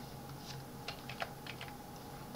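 Quiet keystrokes on a computer keyboard while entering a formula in Word 2019, a handful of light taps in quick succession over a low steady hum.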